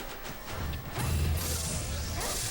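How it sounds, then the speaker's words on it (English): Up smash attacks landing in Super Smash Bros. Melee, played as Fox or Marth in a tournament match, making a run of heavy crashing hits over a busy, continuous game and crowd backdrop. "Good up smashes, and he can just combo these up smashes forever."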